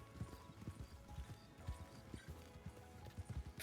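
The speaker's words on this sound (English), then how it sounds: "Something scared that horse." A startled horse on a ranch stamps and clatters its hooves in a quick, uneven clip-clop close by, with a brief whinny mixed in, loud and continuous with no one talking.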